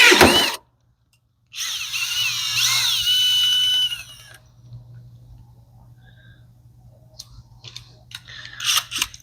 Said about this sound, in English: You'll take your rivet gun with your rivet, line up.